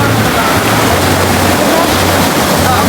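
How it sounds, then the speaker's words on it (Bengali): Roaring sea surf at Patenga Beach at night: a steady, loud wash of breaking waves fills the scene without pause, with a low intermittent hum running beneath it. "আপনারা সমুদ্রের গর্জন শুনতেছেন কিনা আমি জানি না, কিন্তু প্রচুর শব্দ"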